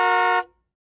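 One short, loud car horn honk, cut off abruptly, heard alone.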